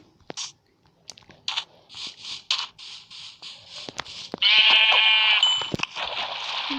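A sheep bleats in a long, wavering cry near the end, after a series of short crunching and chewing sounds in an otherwise quiet space.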